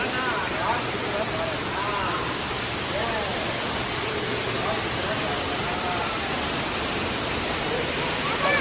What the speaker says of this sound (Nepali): यस्तो घरभित्र यस्तो झरना